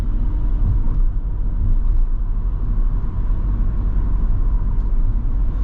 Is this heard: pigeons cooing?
no